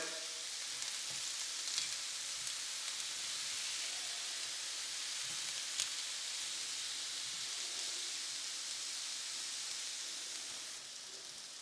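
Lampuki fish fries in a pan, a continuous, even hiss of sizzling oil with a few faint ticks and a slight easing near the end. It sounds close but fairly soft, with no talking.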